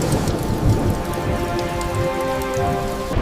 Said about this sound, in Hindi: मोटी मोटी बूंदें छत पर गिरने लगी और देखते ही देखते बारिश ने तूफान की शक्ल इख्तियार कर ली।